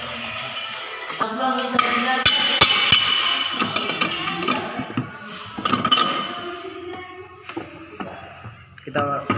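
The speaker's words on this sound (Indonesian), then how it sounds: "Kita palu-palu secara perlahan sampai masuk." Metal taps and clinks ring out as a counter gear shaft is gently hammered into a manual transmission, irregular sharp strikes close up, with voices talking in the background.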